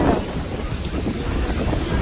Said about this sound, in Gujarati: મસ્ત મજાના મોજા આવી રહ્યા છે.